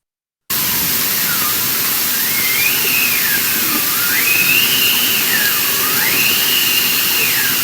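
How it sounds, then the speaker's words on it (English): Bowhead whale song recorded underwater: long tonal calls sweep up and down in repeated wavering phrases over a constant loud hiss of background noise. "I want you guys to hear for yourselves how very different bowhead whale songs can be from the same population"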